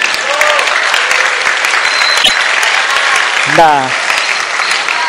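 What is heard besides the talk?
audience applause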